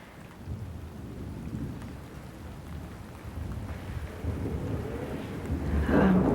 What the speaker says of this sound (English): Has the storm let up at all?